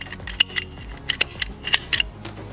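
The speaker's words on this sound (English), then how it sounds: "this is probably the second time ever I've used these hose cutters to actually cut hose" Hose cutters snip through a rubber axle breather hose on a Toyota Tacoma, giving a series of sharp, close clicks and crunches in an uneven rhythm.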